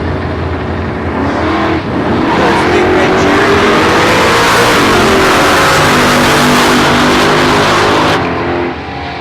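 A Chev-powered 1-tonner and a 350 Chev Holden Monaro launching side by side at a street drag race, loud V8 engines roaring and revving for several seconds, with an announcer talking over them.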